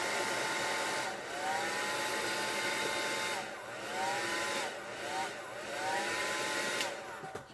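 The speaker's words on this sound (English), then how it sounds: "I can't turn my dryer off." Handheld heat or hair dryer blowing steadily close by while drying a mixed-media art journal page, a loud airy whoosh with pitch wavering as it moves and a person speaking briefly.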